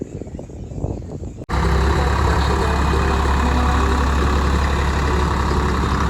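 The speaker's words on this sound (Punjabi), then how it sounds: "ਟਰੈਕਟਰ ਚਲਾਈ ਜਾਂਦਾ ਬਾਣੀਆਂ ਆ" A 3630 / S855 tractor engine runs in a steady, dense rumble that kicks in suddenly after a quieter opening and holds loud and close to the end.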